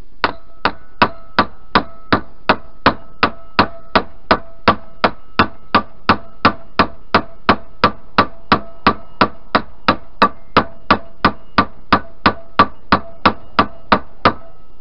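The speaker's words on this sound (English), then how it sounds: "I'm going to have to give it a few whacks with the impact driver." Hammer blows on an impact driver set against a 1988 Yamaha DT125R engine crankcase, about thirty sharp metallic whacks struck at an even, steady rhythm, close and loud.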